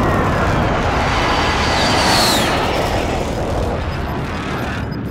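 Precision airstrike explosions in Call of Duty: Modern Warfare, a loud roaring blast with a descending whistling streak midway, fading into a rumbling tail, without talk.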